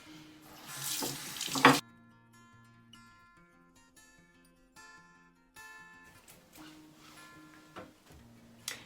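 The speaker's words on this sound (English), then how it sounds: "I'm going to give my hands a wash because it's always good to start with clean hands." Running water at a bathroom sink as hands are washed, a loud splashing burst for the first couple of seconds, then quieter trickles, drips and faint clinks at close range, with no talking.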